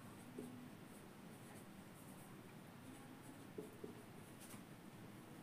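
A pen or pencil scratches steadily across paper as a sentence is handwritten, producing faint, soft continuous strokes with no talking.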